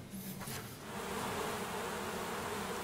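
Honeybees from a Demeter-kept hive buzz in a steady, dense swarm drone that swells after the first second and then holds at a constant level, close and continuous with no talking.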